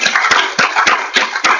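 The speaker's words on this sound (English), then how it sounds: "Round of applause for Sam." A small seminar audience gives the speaker a round of applause, sparse, loosely spaced claps close by with no talking.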